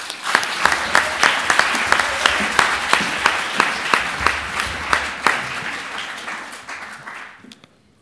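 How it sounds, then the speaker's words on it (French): An audience at an eloquence contest applauds a speaker with steady, dense clapping. It runs for several seconds with a few stronger rhythmic claps, then fades out. "Veuillez applaudir le dernier orateur de la soirée, Sylvain Lengeler."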